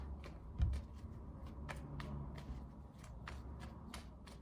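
Tarot cards are shuffled by hand in a quiet room, giving a series of soft, quick papery riffles and taps that are fairly faint, with no speech.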